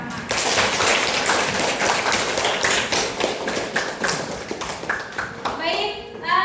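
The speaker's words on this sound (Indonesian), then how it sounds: "kalau setuju kita tepuk tangan bersama." Students in a school classroom clap their hands together, a dense run of close, sharp claps that thins toward the end while children's voices are heard.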